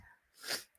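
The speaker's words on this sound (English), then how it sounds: "y'all got to sneeze again" A single sneeze bursts out sharply, close and fairly quiet, followed by a short breath.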